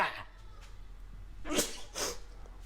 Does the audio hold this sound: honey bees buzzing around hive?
no